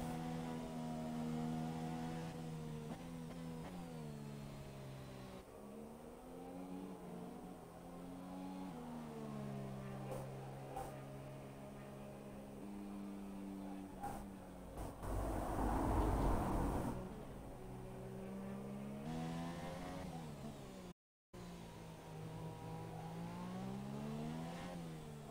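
A Force India Formula 1 car leaves the pits at the Brazil Grand Prix in a racing video game. Its engine whines and revs through gear changes, rising and falling in pitch, with a louder burst of noise midway and a brief dropout near the end.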